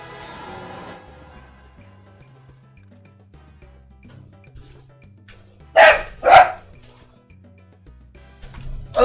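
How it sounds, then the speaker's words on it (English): A pet dog gives two loud, sharp barks close by, separated by a short pause, over quiet background music. "Oh, what are you barking at?"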